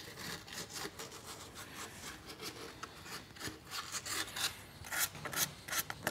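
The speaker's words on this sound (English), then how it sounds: "I thought we might see if we could take off a little of that rust" A stump grinder part, a Ventrac stump grinder component, is polished to remove rust, giving continuous close abrasive rubbing and scraping with an uneven, rasping rhythm.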